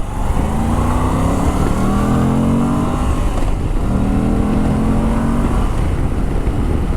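Moto Guzzi V85TT motorcycle accelerating through the gears to overtake, engine revving upward in two rising pulls with a shift between, heard from the rider's position amid steady wind noise.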